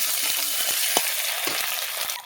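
Ginger-garlic paste sizzling among browned frying onions, a loud steady hiss with a few spoon scrapes and knocks against the pan; no voices.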